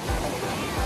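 A campsite waterfall in Saraburi makes a steady, dense rush of falling water, close and fairly loud, with a voice speaking faintly over it.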